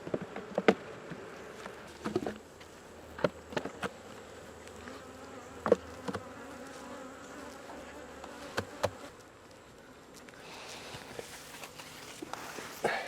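Honey bees hum steadily around an open hive during honey collection, a soft, continuous drone with occasional light taps and handling knocks. No voices.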